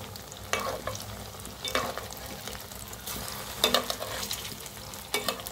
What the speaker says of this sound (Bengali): আমার কাবাবগুলো আমি তেলে দিয়ে দিলাম